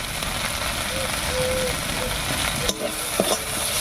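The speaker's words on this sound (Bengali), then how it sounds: "ফোড়নের উপরে মশলাগুলো দিয়ে একটু নাড়িয়ে নিয়েছি" Spices in hot oil for a Bengali tempering sizzle steadily as a spoon stirs through them, with a few sharper scrapes near the end, for a desi singi fish curry.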